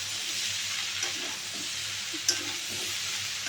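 Cabbage and peas frying in a pan, a constant bright sizzle with a few soft stirring taps and one sharper clink, close by and with no talking.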